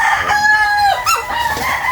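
A loud, close rooster crow rings out in a long drawn call, followed by more crowing and clucking from chickens nearby.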